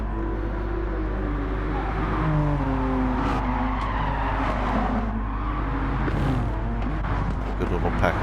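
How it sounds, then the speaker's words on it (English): Race car tires skidding through a power slide in Gran Turismo 7 during close pack racing at Atlanta, a sustained squeal over steady engine drone and commentary talk throughout. "Big power slide there by Arrow."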